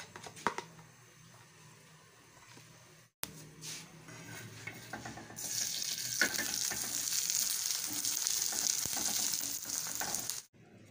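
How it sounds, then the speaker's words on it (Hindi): Ghee sizzles and crackles on a radish paratha frying on a hot pan, starting with faint scraping and handling, then rising into a loud, steady sizzle that cuts off abruptly. "दोबारा हमने घी डाला दूसरे पराठे पे।"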